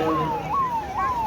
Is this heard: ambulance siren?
yes